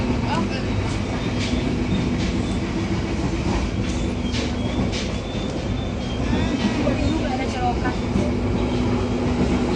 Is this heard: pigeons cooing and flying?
no